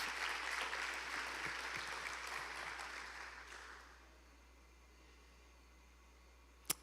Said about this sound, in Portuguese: Você pode aplaudir o Senhor no seu lugar?